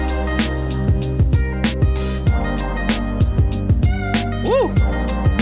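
A finished beat plays back with guitar, punchy drums and deep sliding bass hits in a steady groove, plus a swooping pitch bend near the end, loud and with no talking.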